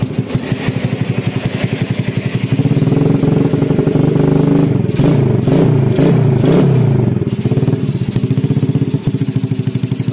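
A Yamaha Vega R motorcycle with a BRT dual-band CDI revs repeatedly, loud and close, its engine rising and falling in throttle blips over a rough idle.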